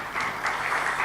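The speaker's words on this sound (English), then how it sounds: "let's give our panel a mighty round of applause" A conference audience applauds a real estate redevelopment panel in Mumbai, a brief burst of moderately loud, pulsing claps from a seated crowd.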